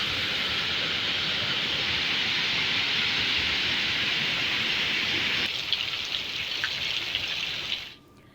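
Heavy rain pours down over Navi Mumbai, a dense and steady roar that stays loud and even for several seconds before it cuts away near the end. No voices are heard.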